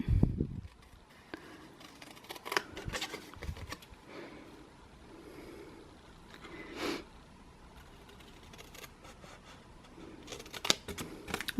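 Scissors snipping paper for a homemade decor banner, a series of crisp close cuts in irregular bursts with quiet handling in between.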